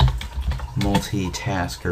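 Keys clatter on a computer keyboard while PHP code is typed out, quick uneven taps running underneath a man's speech throughout.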